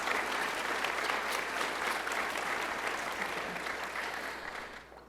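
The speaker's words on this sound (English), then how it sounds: "let's give them a round of applause" At a climate summit, an audience applauds panelists being welcomed onstage: a broad, even wash of many hands clapping, moderately distant, tapering off and fading out at the close.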